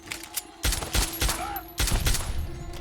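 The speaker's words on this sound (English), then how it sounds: "Where did those gunshots come from?" Bursts of automatic gunfire in the video game Fallout 3, two loud rattling volleys with brief sharp shots between, fairly close and dominating the mix.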